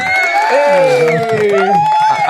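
Canned crowd applause sound effect triggered from a button during a podcast, a short burst of cheering voices and whoops over clapping, loud and close.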